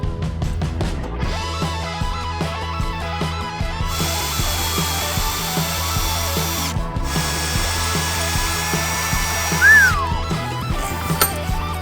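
A power drill enlarges holes in a caliper carrier to 10 millimeters on an abandoned project car, a loud sustained whine that rises and holds, close up with bits of ratcheting between runs.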